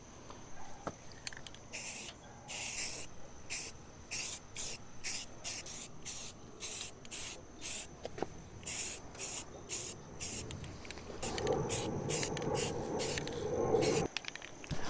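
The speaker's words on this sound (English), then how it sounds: "here we just have some filler primer. The plan is to hit this" Aerosol can of filler primer sprayed onto a car body in short rhythmic bursts of hissing, about a dozen passes with brief gaps, ending in a longer continuous spray, close and steady, no speech.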